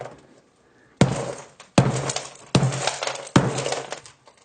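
An iPhone 6S encased in a hardened expanding sponge ball is struck hard four times in an even rhythm, each loud, sharp crack trailing into a brief rattling decay.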